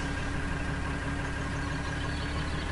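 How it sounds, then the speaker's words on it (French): A tractor engine runs steadily in Farming Simulator 2013, a constant droning hum with no change in pace and no talk. "nous allons ramener le tracteur"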